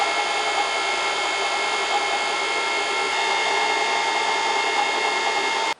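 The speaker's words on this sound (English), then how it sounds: "Now I can clamp this together, take it over the drill press" A drill press bores bolt mounting holes through clamped metal parts for a lathe milling attachment, a steady loud whirring drone that holds unbroken and cuts off abruptly at the end.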